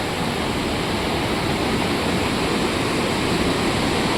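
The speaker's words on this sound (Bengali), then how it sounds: "যে হোমস্টের পাশ দিয়ে এইরকম রঙ্গিত রিভার বয়ে যাচ্ছে" The Rangit river, running muddy after a heavy downpour, rushes past a riverside homestay at Bijonbari in a steady, loud broadband roar that holds unbroken throughout, with no voices.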